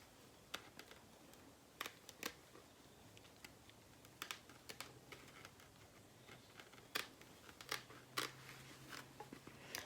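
Scissors trimming the lace edge of a wig in a zigzag line, a series of quiet, crisp snips arriving in irregular clusters against a faint background hum.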